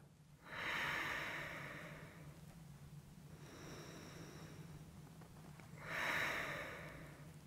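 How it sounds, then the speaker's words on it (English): Slow, deep breathing during a restorative yoga neck stretch, with two long audible breaths close by separated by a quieter pause, over a low steady hum. "Take two more breaths here."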